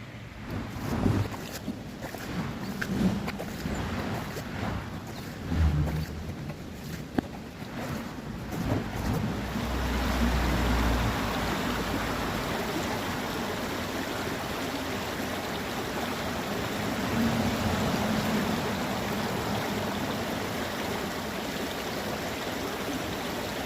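Water runs steadily through a gold prospecting sluice on an English river in Devon, a continuous rushing wash with some bumps and handling clatter early on, then an even flow without talk.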